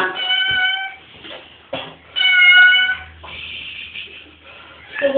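A cat meows loudly several times during a bath, long wailing cries close to the microphone with short gaps, while a person speaks softly in between.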